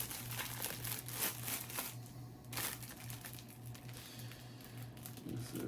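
A plastic bag is pulled off a newly unboxed sword, making close, irregular crinkling and rustling bursts that come and go over several seconds, with a low steady hum underneath.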